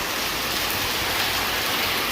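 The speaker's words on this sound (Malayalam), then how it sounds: "നല്ല ഇടിമിന്നലും ഉണ്ട് കേട്ടോ. നല്ല മഴയാണ്." Heavy rain pouring steadily, a dense close hiss of water on surfaces with no break; no thunder stands out.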